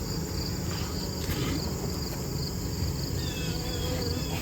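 A dense, steady buzz of many honey bees fills the air inside an open hive, close and continuous, with no voices.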